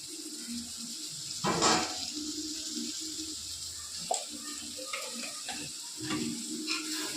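Village chicken frying with curry masala in a pan, a soft steady sizzle broken by several louder stirring scrapes and clatters, close by.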